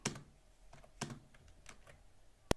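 A number key is pressed on a computer keyboard, giving a few soft, scattered clicks and one sharp, louder tap near the end, close and quiet with no talking.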